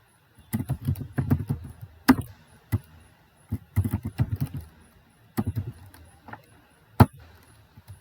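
Bursts of keystrokes on a computer keyboard as a terminal command is typed, clustered in quick runs with short pauses between them and a single louder key press near the end, close and fairly soft.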